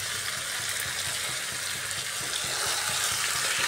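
Chicken frying in a pan with ginger garlic paste over medium gas heat makes a steady, dense sizzle and crackle, continuous and close throughout.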